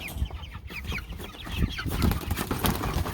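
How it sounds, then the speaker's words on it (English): White broiler chickens cluck and squawk as they are carried from a barn to a chicken tractor, short agitated calls overlapping close by, with shuffling and handling noise underneath. "We're moving the white broiler chickens from the barn out to the chicken tractor today."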